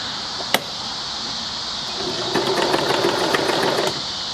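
A dressmaking sewing machine hums steadily, then stitches a zigzag in a short, even burst of close mechanical chatter.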